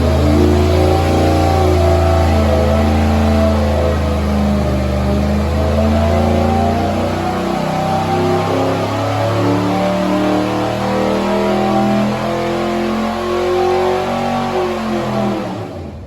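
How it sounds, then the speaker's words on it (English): A 427 big block Chevy with a Comp Cams XR276HR roller camshaft roars through a dyno pull, its loud, steady engine note climbing in pitch over sixteen seconds before cutting off abruptly, with no talking. "And we're going to make another pull, see what happens."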